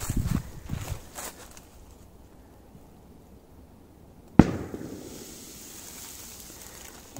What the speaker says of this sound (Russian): Есть. Хороший взрыв.